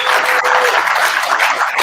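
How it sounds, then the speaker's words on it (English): An audience at the 2023 CrossFit Games claps in a steady, dense burst of applause that holds at an even level throughout, with no one speaking over it. "You guys can clap."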